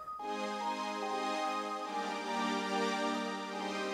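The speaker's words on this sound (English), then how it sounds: "And I added a bell that sounds like this." A synth bell patch in a Jersey club production rings out as sustained bright chiming tones, shifting to a new chord partway through, clear and alone without voices.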